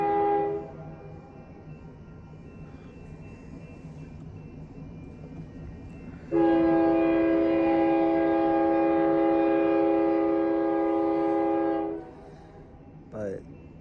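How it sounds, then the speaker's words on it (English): A train passes right beside a house next to a railroad track, first a low rumble, then a loud sustained horn blast lasting several seconds before cutting off, with a brief tonal squeal at the end. "I think I hear a train coming"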